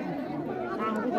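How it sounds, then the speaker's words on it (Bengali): A crowd chatters at a river crossing by the boats on the Dharla river, many voices overlapping in a dense, steady murmur close by. "তো গাইস এই ভিড় থেকে আমি এখন প্রচুর ভিড়, ঠিক আছে?"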